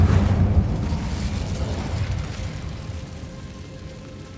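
The Incendio fire spell cast in Hogwarts Legacy, a deep whooshing burst of flame that is loudest at the start and slowly fades over a few seconds, with no talking.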